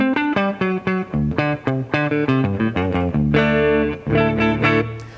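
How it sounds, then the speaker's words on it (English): Guitar played through a hall reverb effect on Yamaha and Line 6 gear, a series of clear plucked notes and chords ringing out with a spacious, lingering wash of reverb, loud and steady with no talking. "So I'm going to start off with just one of the hall reverb."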